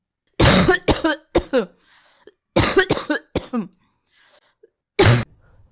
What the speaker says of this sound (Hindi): बहुत दिन से खांसी आ रही है और जा नहीं रही।